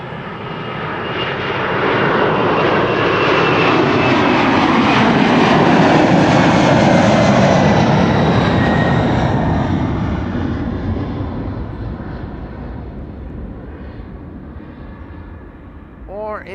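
A 33-year-old Boeing 767 departing Schiphol's Kaagbaan runway 24 in December, its jet engines building into a loud broadband roar that peaks mid-pass and slowly fades as the aircraft climbs away.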